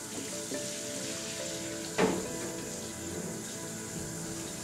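Shower water streams in a steady, hissing spray, a constant wash with a brief louder splash near the middle.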